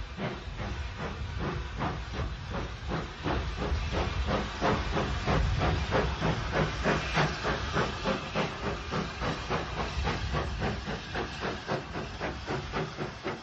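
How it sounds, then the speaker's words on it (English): Southern Railway steam locomotive No. 31551 pulling away from Goudhurst station on the Hawkhurst branch, its loud rhythmic exhaust chuffs and continuous steam hiss holding steady and close throughout. "A train for Hawkhurst leaves Goudhurst, with number 31551 again in charge."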